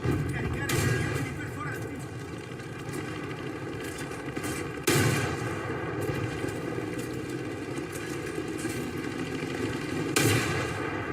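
Gunfire in the tank combat game War Thunder: a steady rattle of shots over a low engine drone, with louder bursts swelling up now and then.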